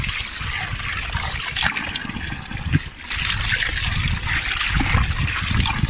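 Very cold spring water trickles and splashes steadily while feet are washed at Karlan, a picnic spot near Abbottabad, a continuous close running-water sound with brief dips in level.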